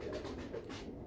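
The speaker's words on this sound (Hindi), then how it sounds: "ये देखें जी नीला कमग्गर कबूतर है" A blue Kamaggar pigeon coos softly nearby, a brief low murmuring call with other birds faintly around it.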